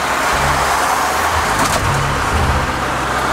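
Cars rush past nearby in loud, overlapping waves of engine and road noise, with a continuous traffic roar.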